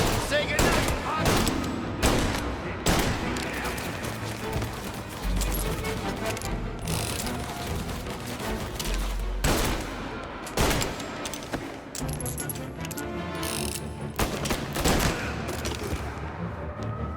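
Repeated gunfire from a shootout in the Mafia Definitive Edition video game, with loud bursts and volleys of shots that keep coming throughout, mixed with game music and shouted voices.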